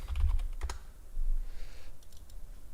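Keys clatter on a computer keyboard in a short burst of close typing, a brief pause, then a few more scattered clicks, with a low background rumble underneath.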